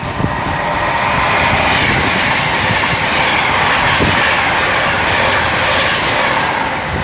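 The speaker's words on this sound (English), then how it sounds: "Here's another Pendolino, here's the other one." A Class 390 Pendolino train rushes past on the West Coast Main Line at Rugeley Trent Valley. Loud, steady broadband roar and rumble fill the whole clip with no voices.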